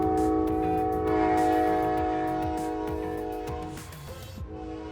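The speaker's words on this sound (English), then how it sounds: "the horn of Locomotive 30 ringing out for the all aboard" Amtrak Locomotive 30 sounding its horn for the all aboard at a station stop, a loud sustained chord that swells and then fades, with rail and bustling clatter underneath.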